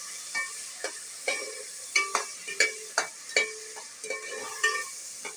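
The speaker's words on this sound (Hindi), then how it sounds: "टमाटर को थोड़ा सा आप इसमें अच्छी तरह भून लें।" A spoon scrapes and clinks rhythmically against a pan while tomatoes fry for beef qorma, about a dozen close, distinct strokes over a soft sizzle, with no talk.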